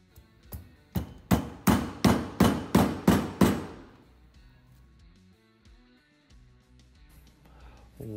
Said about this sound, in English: I'm going to use cardboard tube from plastic wrap to press